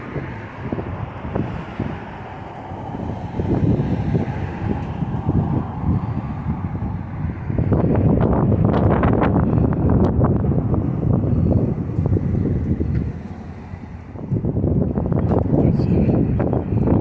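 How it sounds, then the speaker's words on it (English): Steady wind roars and buffets across the whole stretch, rising into stronger gusts partway through, with low rumbling noise and no talking. "Pretty windy today."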